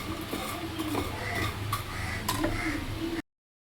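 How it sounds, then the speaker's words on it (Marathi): Makhana (fox nuts) roasting in a pan at home, heard as light ticking and clinking of the nuts shifting against the metal, steady and close over a low background hum, ending abruptly. "आणि इथे मखाना भाजते."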